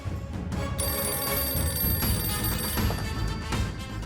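A telephone bell rings steadily with a bright, sustained metallic trill, over a low background rumble, no speech.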